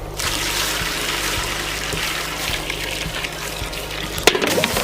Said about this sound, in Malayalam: ഇതുപോലെ ഒരു കുടുക്ക ചൂടുവെള്ളം ഉണ്ട് ഇത് ഇതിലേക്ക് ഒഴിച്ചു കൊടുക്കാം